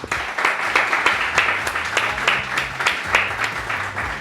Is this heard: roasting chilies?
no